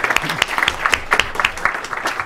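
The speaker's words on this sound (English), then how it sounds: "a round of applause for the panel" A conference audience applauds a panel at the end of a session on education and the knowledge economy, giving a short burst of dense, close clapping.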